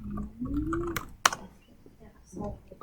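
A computer keyboard clicks briefly as a search for a TED Talk topic is typed, a few soft key taps under a speaking voice that carries through most of the moment.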